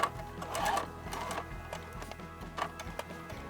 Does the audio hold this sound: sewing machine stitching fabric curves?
yes